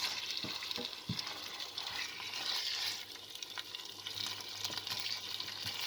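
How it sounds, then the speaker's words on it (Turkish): Chopped leeks sauté in a pan for a börek filling, giving a steady soft sizzle with a few faint utensil taps and stirring scrapes, quiet and without speech. "Şöyle bunu güzelce kavuruyorum"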